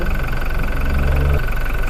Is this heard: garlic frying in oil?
no